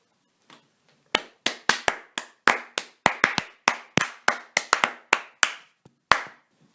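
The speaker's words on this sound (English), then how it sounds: "this is the first time we've clapped out anyone this year" A small group claps someone out at a 2014–15 playoff second-round event, giving sharp, separate hand claps in an uneven but steady rhythm, close and clear with no talking.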